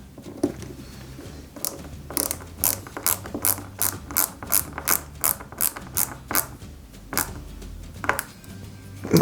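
A small screw is driven into a side part of a 1/8 scale Peugeot 205 GTI 1.9 model, heard as a close run of sharp, evenly spaced ratcheting clicks from a screwdriver, with no talking.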